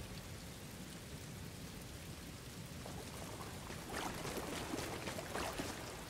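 Rain and distant thunder in the Star Wars Jedi Fallen Order video game: a steady, faint wash of rainfall with low rumbling underneath, swelling slightly in intensity during the second half, with no voices.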